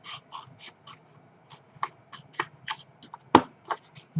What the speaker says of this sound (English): Let me just cut it there.